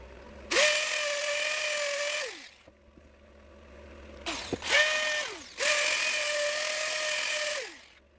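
Wood lathe turning off the tenon of a resin-and-wood bowl held in cole jaws, three sustained bursts of a steady whining tone with harsh cutting noise, each starting and winding down, separated by short quiet gaps.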